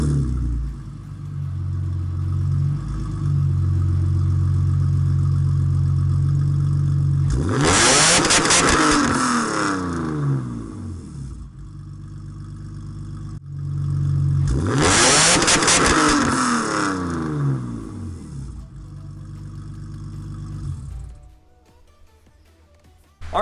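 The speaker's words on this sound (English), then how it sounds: "I can actually bounce this thing off the rev limiter a little bit" A BMW 330ci race car with eBay headers revs hard and bounces off its rev limiter, with two loud raspy engine bursts rising over a steady idle and then dropping back, close by.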